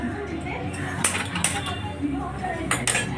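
A cooking pot is set onto a gas stove before oil is added. Metallic clanks and clinks ring out in a few close, sharp hits while a voice speaks softly in the background.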